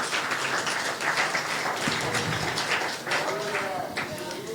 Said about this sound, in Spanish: Dele un aplauso al Señor, que yo creo que eso merecía un aplauso.